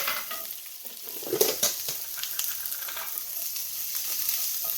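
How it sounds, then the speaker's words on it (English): Garlic and a chopped shallot frying in oil in a pan, a bright, steady sizzle with several stirring scrapes early on, close up and without voices. "Put your shallot in, 1 shallot."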